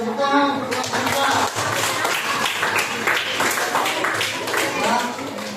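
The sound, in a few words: applause for group 4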